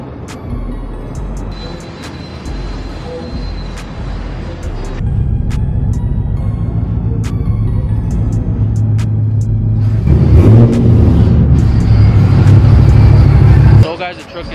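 A truck's 5.3 V8 with headers and a true dual exhaust idles as a steady, loud low rumble, rising to a deeper, louder drone partway through and falling back at the end.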